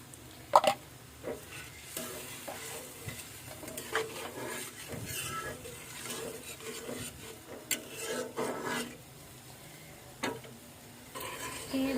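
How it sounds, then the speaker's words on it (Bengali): Beef korma with sour yogurt being stirred and sautéed in a pan: soft scraping and rubbing strokes with a faint sizzle underneath, a few sharper utensil knocks, steady and moderately quiet. "ভালো মতো এখন কষাই নিতে হবে"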